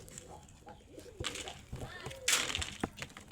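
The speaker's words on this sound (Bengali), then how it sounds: "প্রিয় কবুতর।" Pet pigeons cooing at close range, soft repeated low coos threaded through light household noise, with a brief louder burst near the end and a person speaking faintly in the background.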